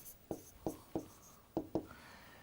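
Pen or marker strokes on paper or board while a maths exam solution is written out, five short scratchy taps spaced about a third of a second apart, close and quiet, with no talking.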